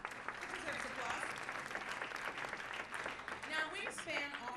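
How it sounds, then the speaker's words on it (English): Audience at a cabaret awards show applauding, moderate clapping running throughout with voices talking over it. "Deserves applause."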